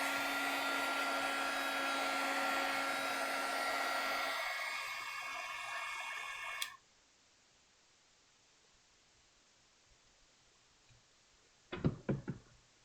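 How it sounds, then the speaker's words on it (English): A heat gun blasts steadily for about seven seconds, drying a craft project, then cuts off abruptly, followed by a few brief knocks and handling clatters. "So don't use your heat gun on your good mat."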